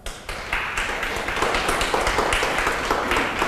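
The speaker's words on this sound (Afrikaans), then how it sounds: "Gee hom eers 'n lekker hande klap" Congregation clapping hands together during an Afrikaans church service, a dense, sustained wash of many hands applauding at once, steady and lively throughout.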